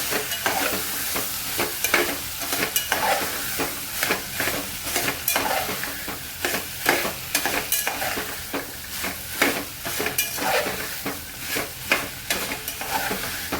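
Peas, green beans and potato sauté in a pan for veg pulao. A continuous sizzle runs throughout, broken by frequent rhythmic scraping and stirring strokes of a spatula against the pan.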